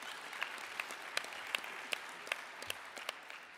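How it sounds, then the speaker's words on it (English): Audience applause at a college honors and awards ceremony, a steady patter of many clapping hands heard from some distance, with sharper individual claps standing out at a regular pace. "How about a round of applause?"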